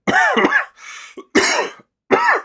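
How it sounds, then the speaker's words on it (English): A person coughs in short rasping bursts, three or four fits separated by brief pauses, close and loud. "I have a bit of a cough"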